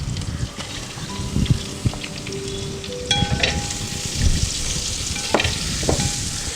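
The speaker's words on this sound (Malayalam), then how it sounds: "നമുക്കതും കൂടെ ചേർത്ത് കൊടുത്ത് നന്നായിട്ടൊന്ന് വഴറ്റിയെടുക്കാം." Onions sautéing in a pan for Kottayam-style tapioca biryani, a soft steady sizzle with scraping stirs and a few light clinks of a spoon against the pan.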